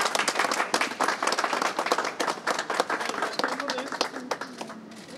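People applaud during a museum visit to the Orhan Kemal museum, a brisk burst of clapping from a small group with distinct individual claps, mixed with voices talking.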